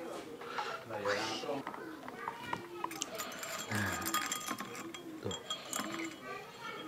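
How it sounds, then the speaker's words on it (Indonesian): A spoon stirs sweet tea in a glass at a noodle stall in Bantul, with light, irregular clinks against the glass mixed with talk and background clatter. "aduk lagi sampai manisnya pas ya"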